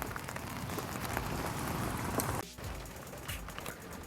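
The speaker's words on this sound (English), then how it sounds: "this rain is killing the mood right now." Steady rain pours outdoors on surfaces, a dense continuous hiss with a brief dip midway, loud and close with no voices.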